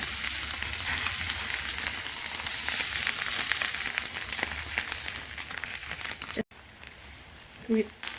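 An egg sizzles on a tortilla in a hot frying pan as it is moved around, a dense continuous crackle close by, with a brief pause and a short spoken voice near the end.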